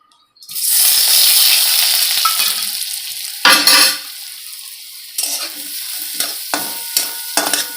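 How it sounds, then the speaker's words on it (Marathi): Safflower greens hit hot oil with a paste of peanuts, green chili, garlic and salt, a loud sudden sizzle that fades, followed by spatula stirring and scraping against the pan. "हे वाटण घालणार आहोत शेंगदाणे हिरवी मिरची आणि लसूण आणि मीठ"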